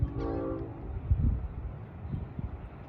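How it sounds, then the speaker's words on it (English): A Long Island Rail Road train approaching on the Montauk Branch near Brightwaters sounds its K5 LLA air horn in a brief chord, followed by the rumble and rattle of the train, fairly near. "It's got a K5 LLA horn on it."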